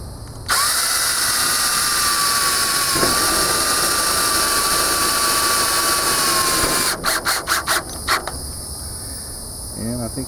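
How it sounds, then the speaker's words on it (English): A power drill drives screws into an electrical subpanel: one long, loud, close whine, followed by a run of short, rapid bursts as the screw is seated. "so I just put a couple more screws in here"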